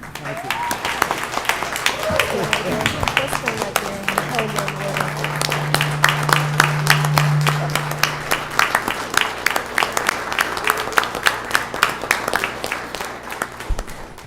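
Audience applause fills a county board of commissioners meeting, a sustained wash of many hands clapping at steady volume for the full stretch, with a low steady hum underneath.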